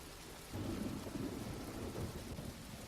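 Steady rain falls with a low rumble of thunder that swells about half a second in and then rolls on continuously at moderate volume, with no voices.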